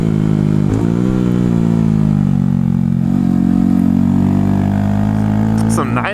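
A motorcycle engine drones loudly and steadily while doing a wheelie on asphalt in Jacksonville, holding a low sustained pitch with a brief rev near the end, and a voice talks over it.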